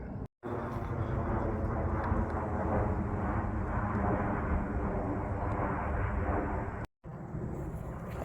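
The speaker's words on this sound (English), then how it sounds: "I always like to get a shot of the airplanes going over." A fixed-wing airplane passes overhead on a sunny day in an Albuquerque park, a steady broad roar that fills the whole stretch with only brief cuts.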